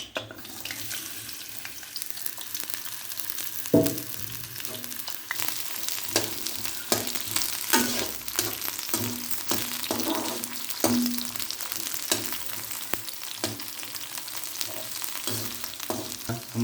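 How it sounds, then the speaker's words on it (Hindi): Chopped onions fry in oil in a pan with a continuous, fairly loud sizzle, punctuated by scraping stir strokes throughout, with no voices. "ये जो प्याज हमने पहले काट के रखे हुए थे वो इसमें हम डाल रहे हैं।"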